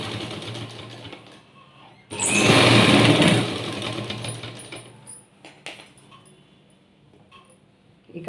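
A sewing machine top-stitches along a fabric strip in one short, loud burst of a second or so, then fades back to quiet room noise with scattered light clicks.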